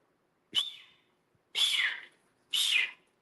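A human voice imitates a baby cougar's call, giving three breathy, airy whistles in steady succession, each about half a second long, close and fairly loud with silence between.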